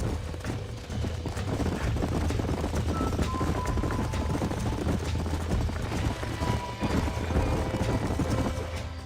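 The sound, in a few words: horses trotting, hoof clip-clop, from video game Red Dead Redemption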